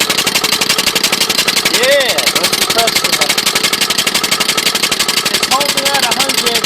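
A lawn mower engine converted to run on steam chugs with a rapid, steady mechanical beat close by, with hissing steam underneath and a person talking over it.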